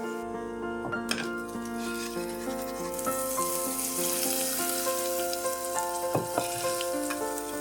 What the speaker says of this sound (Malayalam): ഈ കടുക് താളിച്ച് നമുക്ക് തയ്യാറാക്കി വെച്ചിരിക്കുന്ന ബീറ്റ്റൂട്ട് പച്ചടിയിലേക്ക് ഇട്ട് കൊടുക്കാം